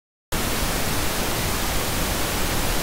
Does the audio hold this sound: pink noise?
yes